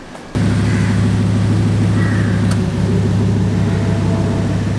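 A car passing at a supercar meet, a loud, steady engine roar that starts abruptly and holds strong with a deep rumbling drone to the end.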